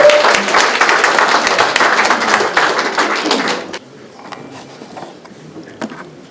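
A crowd at an education superintendent candidacy declaration in Gyeongbuk breaks into loud, dense applause for nearly four seconds, then it cuts off abruptly, leaving a quiet room with a few scattered taps.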